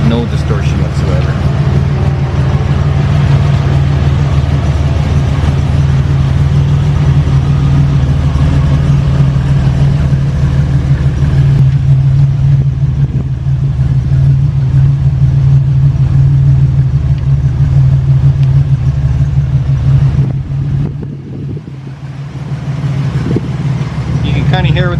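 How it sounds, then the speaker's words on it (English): A Buick GNX turbo V6 idles steadily and loud nearby with a slightly lumpy, uneven rumble, a brief dip near the end. "You can kind of hear with the Buick here that none of the Grand Nationals ever had a very stable idle."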